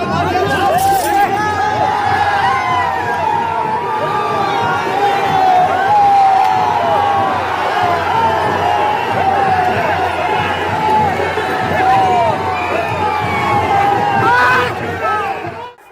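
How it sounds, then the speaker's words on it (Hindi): A huge, dense outdoor crowd gathered outside a mosque while prayers go on inside, its loud, steady babble of many voices and shouting continuing unbroken before dropping away at the very end. "बेतहाशा भीड़, ये नमाजियों की भीड़ नहीं है।"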